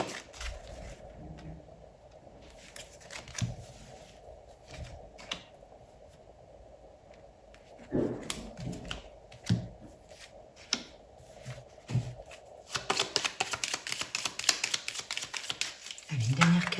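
Tarot cards being shuffled and drawn, soft scattered card flicks and taps building into a rapid riffling patter near the end, close by, with someone speaking French over much of it.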